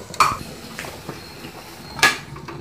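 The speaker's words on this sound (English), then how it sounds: "Now I am going to close the pressure cooker." A metal pressure cooker lid is put on and closed while making idiyappam, giving two sharp clanks about two seconds apart, near and fairly loud, with faint handling noise between them.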